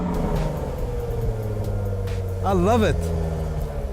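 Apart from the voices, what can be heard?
Jaguar F-Type V6 engine roaring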